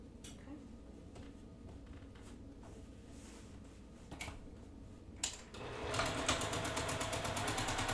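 A sewing machine stitches fabric pieces together, quiet at first under faint speech, then a fast, even mechanical chatter of stitching that grows louder and continues to the end.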